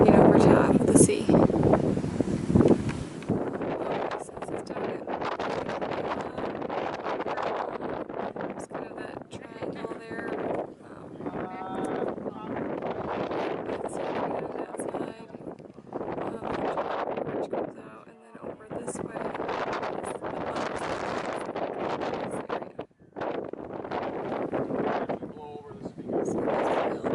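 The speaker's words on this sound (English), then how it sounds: "It's very windy." Strong wind buffeting a microphone on top of Mount Arbel above the Sea of Galilee, loud gusty roaring that rises and dips throughout, with people talking over it.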